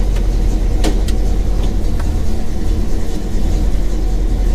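A 1965 Chevy C10 pickup engine hums steadily while driving, a loud, continuous low rumble with road noise and no talking.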